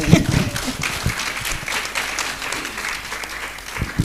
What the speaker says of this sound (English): I think the applause can speak for itself.